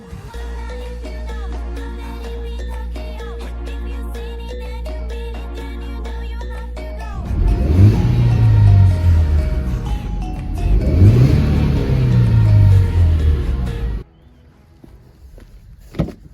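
A small car's engine revs up hard twice in close succession, each rise and fall loud and near, after a stretch of music and before cutting off abruptly.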